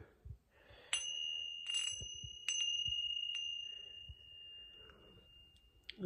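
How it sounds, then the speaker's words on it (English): Tibetan tingsha cymbals in a sound therapy room, several bright metallic strikes whose clear high tones ring on and slowly decay, with quiet background sounds and no talk. "There's the tincture bells or the Tibetan cymbals."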